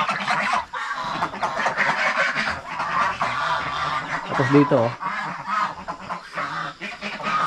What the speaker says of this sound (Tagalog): Meron pa dito sama-sama pabo at saka pato.